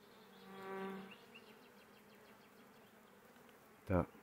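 Honeybees buzz around a bee yard, a close bee droning loudly near the start, then fading to a faint background hum before sharp nearby bursts of wing noise at the end.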